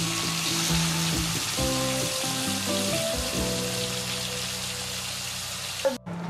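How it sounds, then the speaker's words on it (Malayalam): Chicken fries in a kadai in oil already used for frying onions, giving a steady, close sizzle with a faint tonal hum underneath that cuts off abruptly near the end. "ഇതിൽ ഞാൻ ഓൾറെഡി ഉള്ളി വറുത്തെടുത്ത സെയിം ഓയിലാണ് ഞാൻ ചിക്കൻ ഫ്രൈ ചെയ്യുന്നത്"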